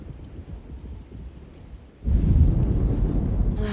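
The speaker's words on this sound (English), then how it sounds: "Looks like a storm's coming." A thunderstorm in the video game Alone In The Dark: soft, steady rain gives way after about two seconds to a loud, rumbling roll of thunder with heavy rain over it, and no one speaks.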